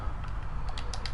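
A few soft keystrokes on a computer keyboard, scattered clicks over a low background hum, brief and fairly quiet with no one talking.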